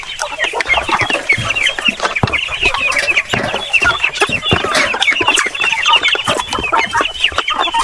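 Chickens on a farm cluck continuously and densely, a busy flock close by with overlapping clucks and occasional squawks, no talking.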